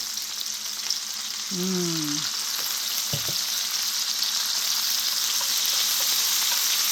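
Garlic and onions sautéing in a pan, a steady close sizzle throughout with a short tonal squeak and a brief knock partway through, no talk.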